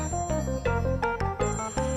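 Telephone ringing at a radio station, a bright electronic ringtone with repeated pulsing rings over a steady tone, loud and close.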